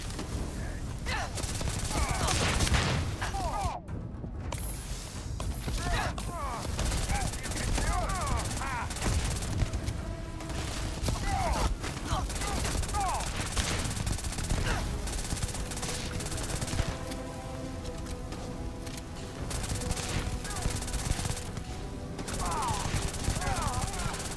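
Rapid automatic gunfire in the Starfield video game, a dense stream of sharp shots with battle effects and occasional pauses throughout, while a player talks over the action.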